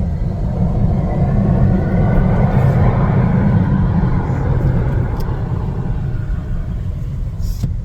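A car driving with the window down, a loud, steady wind-and-road rumble close by with no talking, fading slightly toward the end.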